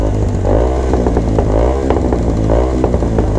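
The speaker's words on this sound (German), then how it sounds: "Der Roller quält aber echt doll." Loud, close scooter engine buzzing hard at high revs at a McDonald's drive-thru, its pitch wavering as it strains, with some rattling throughout.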